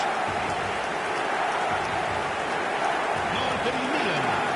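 A stadium crowd in the eFootball 2026 football video game roars and applauds after a goal, a loud, dense, continuous wall of cheering with a commentator's voice over it.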